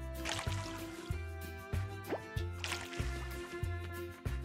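A watering can in the Coral Island farming game splashes over crops with soft, quiet trickling and dripping, repeated in even bursts over a low game music loop.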